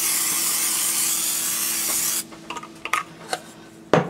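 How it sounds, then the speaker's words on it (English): A continuous hissing spray onto the top of bread dough for about two seconds, then stops, followed by a few light clicks and taps close by. "we're going to go ahead and we're going to spray the top."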